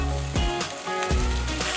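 A large batch of sausage crumbling in a hot pan fries with a loud, close, continuous sizzle, broken by two brief bursts of crackle and pan contact.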